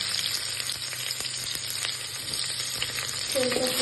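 Onions and Marathi moggu frying on low heat in a pan for hotel-style mushroom biryani, a steady close sizzle with light crackle throughout and a brief stirring scrape near the end, no talk.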